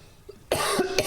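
Someone coughs several times close to the microphone, loud rough bursts in quick succession after a quiet moment.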